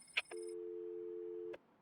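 A phone rings in the game Batman: Arkham City, heard as one steady, faint electronic tone lasting about a second, framed by soft clicks.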